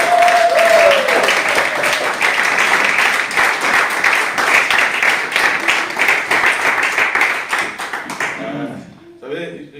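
A church congregation claps and cheers together in loud, dense, sustained applause that fills the room, fading away near the end.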